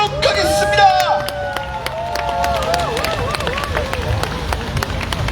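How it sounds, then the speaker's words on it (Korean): A crowd cheers and claps at an outdoor joint opposition campaign rally at Jeju City Hall, a steady roar of voices with rising whistle-like tones sustained throughout. "뜨거운 박수로 모시도록 하겠습니다."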